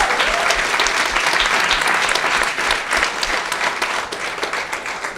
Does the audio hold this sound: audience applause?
yes